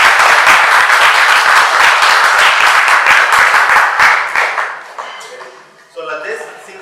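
A group applauds loudly after a flowing yoga sequence, with rapid, even clapping that tapers off after about four seconds, followed by a person beginning to speak.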